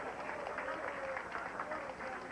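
A bowling opponent applauds after a spare is picked up at a televised candlepin bowling match, a faint patter of clapping running under a commentator's voice.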